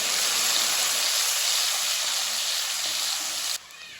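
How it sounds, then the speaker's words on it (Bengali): Chopped onions frying lightly in oil with cumin in a kadai, a steady even sizzle that drops off sharply near the end. "পেঁয়াজগুলো হালকাভাবে ভেজে দেবো।"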